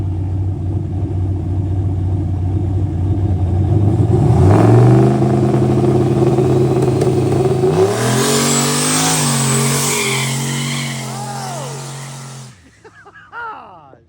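Hot rod car nicknamed Lumberjack revving at full pull in a driveway: a steady idle climbs into a loud, rising roar that holds high before cutting off, followed by brief faint sounds.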